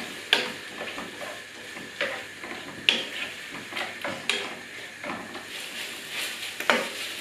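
Seitan, mushrooms and green beans sizzle softly in a pan, a faint steady frying hiss broken by several sharp clinks and scrapes of stirring.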